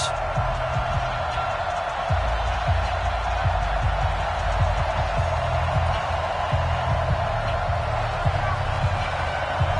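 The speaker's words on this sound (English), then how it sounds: "This crowd is ready as their guys get set to match up between the Chicago Bears and the Green Bay Packers." Stadium crowd noise in an American football video game, Chicago Bears versus Green Bay Packers, played on PS4: a constant broad roar with scattered thumps, under a commentator talking.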